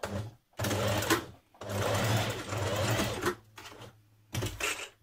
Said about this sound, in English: we're going to just stitch down the seam allowance there